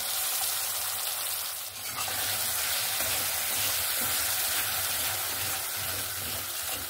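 Spice paste and tomato fry for mustard hilsa, a dense, even hiss of hot oil filling the space close by, with faint stirring underneath and no talk.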